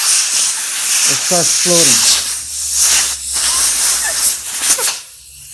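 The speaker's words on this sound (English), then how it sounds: "Squeeze your compressor nozzle right under the grip." A compressed air nozzle blows a strong, steady hiss under a handlebar grip close by, running almost continuously and cutting off near the end, with someone talking over it.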